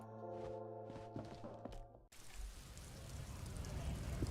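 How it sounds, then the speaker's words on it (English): Steady rain in the video game Disco Elysium hisses and patters evenly, rising after a brief musical passage cuts off, with soft thuds mixed into the downpour. "it is raining, which is definitely a bit disappointing"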